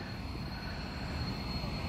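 Freight train rolling north through a rail yard, a steady low rumble and rattle of railcars that holds evenly for the whole stretch, fairly close and loud, with no voices.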